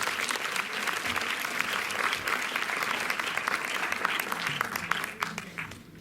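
Sustained applause from a cinema audience at the Méliès in Montreuil, dense and steady for several seconds as a guest is introduced after a screening, with some voices mixed in and a slight tail-off at the end.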